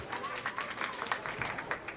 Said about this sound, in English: Oh, clapping. We're just clapping up.